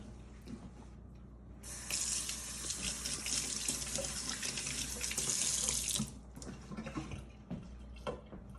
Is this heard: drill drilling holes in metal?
no